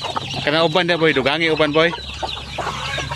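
A hen among fourteen chicks gives loud, close, drawn-out harmonic clucks and calls for about two seconds, followed by softer chatter, with someone speaking briefly over it.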